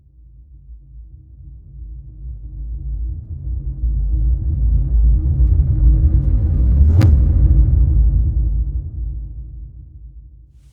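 A kick drum boom, time-stretched backwards into a gritty, aliased four-bar riser, swells as a deep rumbling drone that builds to a sharp slap near the end and then fades, alone.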